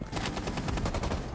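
Rapid automatic gunfire in Rainbow Six Siege, a tight run of loud, evenly spaced shots filling a short burst with no pause.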